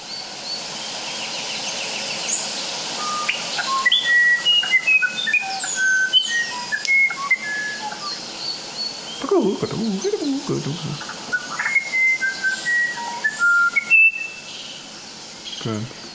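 Bird calls play as a series of bright whistled chirps and trills, in bursts with short pauses, over faint background hiss and a low burbling sound midway.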